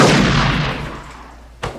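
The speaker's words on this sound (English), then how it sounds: "Gunshot! Gunshot! Gunshot! I've been gunshot!" A gunshot in a movie fires loudly at the start, its blast fading over a second, then a second sharp report cracks near the end.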